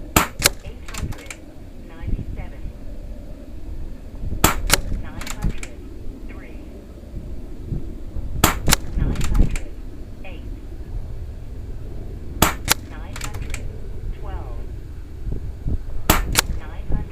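Gauntlet 25SL air rifle firing Air Arms Diablo Field 25.4 grain pellets outdoors: about five sharp, loud cracks spaced several seconds apart, each followed by a brief faint pellet report, over steady breezy background noise.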